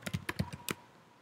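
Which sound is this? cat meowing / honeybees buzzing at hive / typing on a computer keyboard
typing on a computer keyboard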